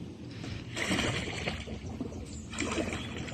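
A Pelican kayak glides down a creek, its paddle strokes giving soft splashes and trickles of water in two bursts over a steady background wash, close by with no talking.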